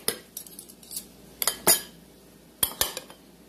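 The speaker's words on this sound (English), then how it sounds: "what I want to do is put a spoon in this one" A metal spoon clinks against a serving bowl of taco salad in a few sharp, close taps and rattles spread irregularly across a quiet room.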